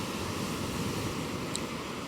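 Large ocean waves roar continuously in a dense, broadband wash of surf, loud and close, with no voices over it.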